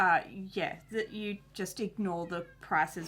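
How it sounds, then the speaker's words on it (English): A house cat meows several times in short, insistent calls, coming through while a person keeps talking nearby. "Excuse my cat."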